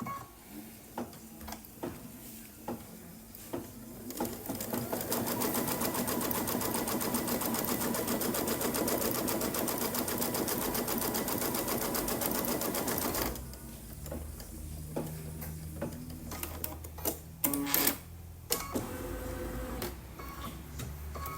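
An embroidery machine stitches a border design for a fabric key fob wristlet in the hoop, scattered clicks and ticks giving way to a long steady rapid whirring run, then stopping into irregular mechanical clicks.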